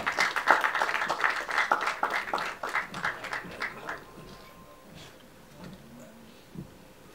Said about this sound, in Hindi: हमारे आपके अन्नू कपूर साहब के लिए एक बार जोरदार तालियां।